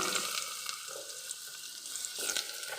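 Pumpkin, pointed gourd and potato sizzle in hot oil for a Bengali mixed-vegetable curry: a steady, close, crackling fry that swells slightly near the end, with no talking.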